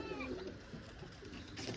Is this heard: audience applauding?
no